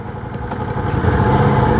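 A Ducati Diavel high-performance motorcycle's engine runs while being ridden, a steady, loud, close drone that swells slightly over a couple of seconds with no voices.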